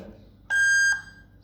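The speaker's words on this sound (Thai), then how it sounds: "เวลามีใครมาเราสามารถกดสัญญาณเตือนอย่างนี้ได้เลยนะ" A YooSee wireless IP security camera sounds its alarm: one loud, steady electronic beep about half a second long, briefly echoing before fading out.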